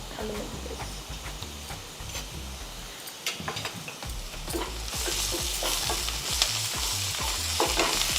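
Ground spices, ginger and garlic fry in hot oil for a mutton kidney curry, a steady close sizzle broken by scraping spoon strokes against the pan, with a brief quieter gap before the frying swells louder again.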